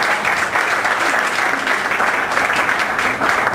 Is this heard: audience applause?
yes